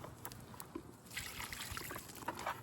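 Rainwater poured from a container onto the dry root ball of a tomato plant before planting, a soft, close trickle and splash soaking into soil, steady and fairly quiet.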